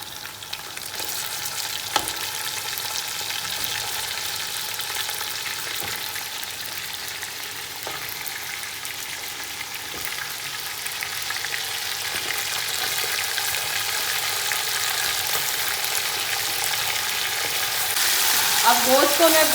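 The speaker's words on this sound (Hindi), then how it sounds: "अब गोश्त को मैं अच्छे तरीके से भूनूंगी जब तक इसकी ये सारा कलर चेंज ना हो जाए" Two kilograms of mutton fry in ghee with whole spices in a big pot, a dense, steady sizzle with occasional stirring scrapes that builds louder toward the end.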